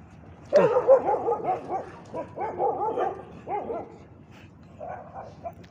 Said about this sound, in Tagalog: Dami yung aso dito.